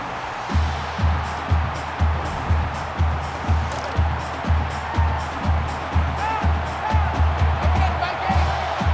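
A stadium crowd in an NCAA 14 college football video game roars continuously, with a rhythmic pulsing chant or stomp running underneath the broad, loud cheering.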